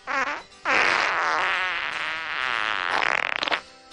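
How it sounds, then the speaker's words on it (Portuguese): Peter's cartoon farts in Family Guy come as a drawn-out series of loud, buzzing, wavering blasts that rise and fall in pitch, pause briefly, then end in a rapid sputtering burst. "fala que não aguentava mais os peidos"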